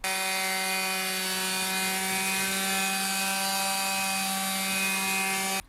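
A Makita cordless quarter sheet sander works old Vitex timber with a 60 grit sheet, giving a steady, loud, close buzzing hum with a high whine that holds unbroken from start to finish.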